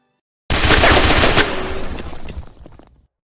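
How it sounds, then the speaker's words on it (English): Rapid burst of gunfire from Erron Black's guns in the Mortal Kombat fighting game, loud and dense for about a second, then trailing off into a fading echo, with no voices. "it's no wonder why Erron's guns feel so puny in motion."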